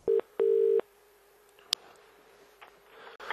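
A telephone keypad dials before a recorded call, with two clear tones, the second longer. A sharp click follows, then a quiet open line with faint noise.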